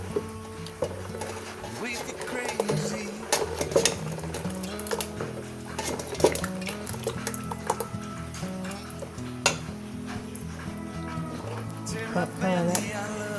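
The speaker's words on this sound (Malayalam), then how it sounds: "നല്ലോണം മിക്സാക്കി എടുക്കാം കേട്ടോ." A spoon scrapes and stirs appam batter with yeast in a bowl for Kerala-style palappam, irregular clinks and wet mixing sounds continuing over several seconds under background music.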